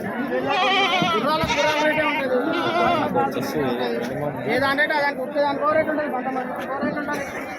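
Goats bleat repeatedly amid the crowded Pebbair goat market, their wavering cries mixing with people chattering nearby.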